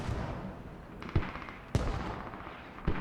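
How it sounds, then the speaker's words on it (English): Explosions during a Squad video game tournament match, heard as a few sharp booming blasts spaced over about three seconds against a steady rumbling battlefield background. "Explosions coming out."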